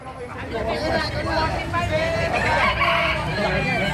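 Native chickens cluck and a rooster crows amid a busy crowd of chattering voices, the birds fairly close and mixed into the hubbub.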